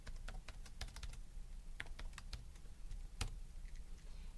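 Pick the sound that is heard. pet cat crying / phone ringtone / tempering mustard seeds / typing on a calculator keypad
typing on a calculator keypad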